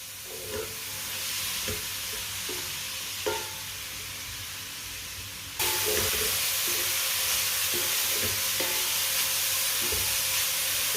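Carrots are stirred as they cook in a pan over medium heat, with a steady sizzle and hiss under occasional scraping strokes of a spoon, the frying noise growing louder and brighter partway through.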